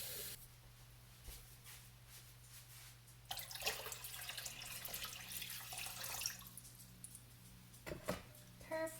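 Tap water running into a big pot for boiling an egg, a hissing splashing stream that starts partway through and stops near the end, with faint kitchen noise.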